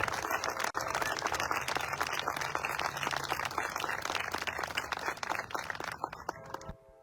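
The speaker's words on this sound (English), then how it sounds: "So could we please give them all a round of applause?" A crowd at an outdoor veterans' banner installation and ribbon-cutting ceremony applauds for veterans with sustained dense clapping that fades out at the end.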